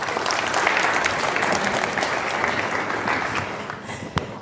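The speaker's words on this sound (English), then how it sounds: "Ladies and gentlemen, one more round of applause." A conference audience at a Munich Security Conference climate finance panel gives a full, even round of applause that holds steady throughout, with a brief louder clap near the end.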